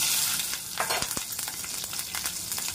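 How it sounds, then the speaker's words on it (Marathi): Cumin seeds and green chilli sizzle and crackle in hot ghee in a pan, a steady soft frying hiss with scattered pops and stirring sounds, close and without speech. "तूप गरम झाल्यानंतर मी त्याच्यामध्ये जिरं टाकून घेणार आहे। मिरची टाकते"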